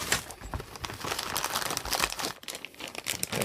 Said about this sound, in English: We've got a few plastic bags.